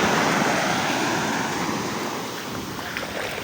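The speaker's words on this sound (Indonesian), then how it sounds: "Di sini tuh ombaknya enak, sedang sekali." Sea waves wash and break steadily along Virgin Beach in Karangasem, Bali, a continuous broadband surf roar mixed with wind buffeting the microphone, fairly loud and even throughout with no voices.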